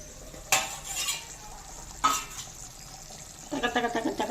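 Vatha kuzhambu, a tamarind curry, simmering in a pot with oil separating, stirred with a spoon: two sharp scrapes against the pot, then soft bubbling at the end, with no voices.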